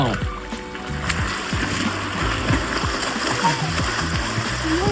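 Water splashes steadily in a resort swimming pool in Hyderabad, with continuous churning close by and voices mixed into the background.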